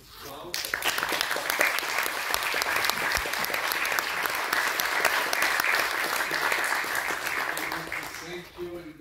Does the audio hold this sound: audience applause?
yes